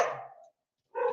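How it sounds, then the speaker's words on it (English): Rescued dogs barking, two short close barks separated by a brief silence, at home overseas. "You got dogs everywhere."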